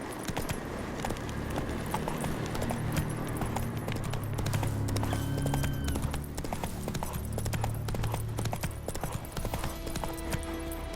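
Roach the horse trots in The Witcher 3 with rapid, rhythmic clip-clop hoofbeats over ambient game sound, steady and moderately close.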